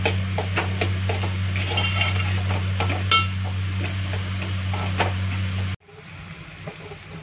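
Pumpkin roasting with black pepper in a pan, with repeated metal scraping and clinks of a spatula over a steady sizzle and a low constant hum, cutting off abruptly near the end to a quieter background.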